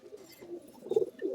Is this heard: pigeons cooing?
yes